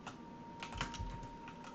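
Forceful typing on a computer keyboard during a city-building game, a quick run of faint clicking keystrokes close by, with no talk.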